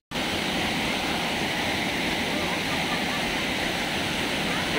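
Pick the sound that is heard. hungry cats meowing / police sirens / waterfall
waterfall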